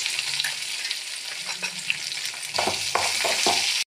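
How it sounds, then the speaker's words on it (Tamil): Onion and garlic sizzle and fry in a pan, with steady crackling and occasional scraping stirs, close up. "நறுக்கிய வெங்காயம் பூண்டை சேர்த்து வதக்கவும்"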